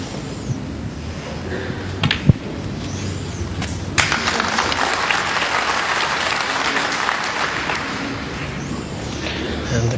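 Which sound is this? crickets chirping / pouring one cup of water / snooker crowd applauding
snooker crowd applauding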